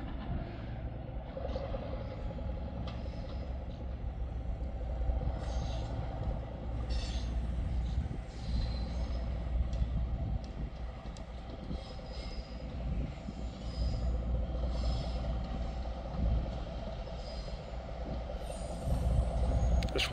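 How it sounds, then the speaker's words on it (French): A train rumbles steadily into a station, with a low continuous rolling drone and faint metallic squeals and air-brake hisses, heard from a moderate distance outdoors with no voices. "Ah bah oui, effectivement, il y a un train qui arrive."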